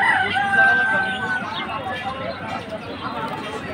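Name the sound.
chickens and rooster crowing at poultry market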